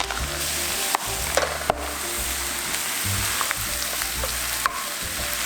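Cold leftover rice fries in a pan for garlic butter fried rice, with a constant close sizzle broken by occasional scraping and tapping knocks as it is broken apart.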